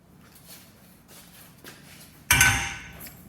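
A heavy hammer strikes a vehicle's rear steel frame rail once, hard and close, giving a loud metallic clang that rings briefly and fades after quieter shuffling and handling noises in a garage.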